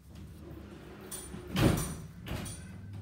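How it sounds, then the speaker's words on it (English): A door being pushed shut indoors: a soft thud partway through, followed by a faint, brief bump, with a quiet room hum underneath. "You shut the door, please?"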